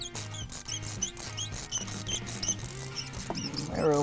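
An old, tight spark plug squeaks as it is turned out of a Ford Expedition 5.4L V8 by hand, a series of rhythmic high chirps and creaks, close and alone with no talking.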